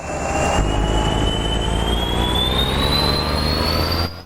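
A custom Cat 3412 V12 truck engine in American Truck Simulator pulls under heavy load, a loud steady drone with a rising turbo whine sweeping upward throughout, heard alone and unbroken.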